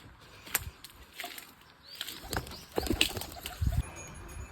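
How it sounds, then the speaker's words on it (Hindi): Several bursts of wing flapping as pigeons take off, with a soft coo or two, against quiet outdoor background noise. "तो भाई अपने सारे कबूतर उड़ चुके हैं"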